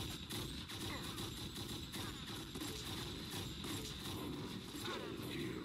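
Rapid gunfire from a weapon in Unreal Tournament fills the stretch as a dense, continuous barrage of overlapping shots, with crackling effects and a steady high tone layered over it, loud and unbroken throughout.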